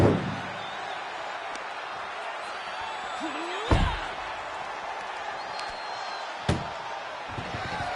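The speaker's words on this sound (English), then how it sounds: "Pushing with every fiber of their being to slam the door." A door slams on an ambulance in the WWE 2K24 wrestling game: two sharp, loud slams land a few seconds apart over a constant crowd roar in the arena.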